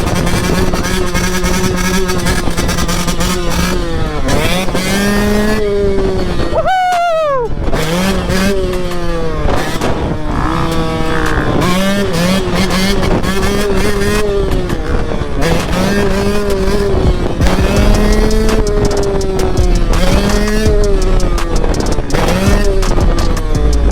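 Motocross motorcycle engines at a cross track rev and roar continuously, several bikes rising and falling in pitch as they ride past, loud and close throughout with a brief dip in the middle.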